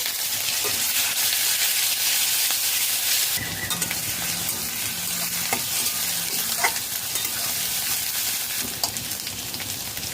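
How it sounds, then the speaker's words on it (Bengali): Hot mustard oil with whole cumin and two green chillies sizzles steadily, then onion paste goes in and a fuller, louder frying hiss follows, broken by spoon scrapes and light clinks as it is stirred. "সর্ষের তেল গরম হয়ে গেছে গোটা জিরা দিয়ে দেব দুটি কাঁচা লঙ্কা পেঁয়াজ বাটা"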